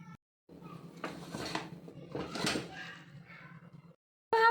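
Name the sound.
pressure cooker being opened after cooking arbi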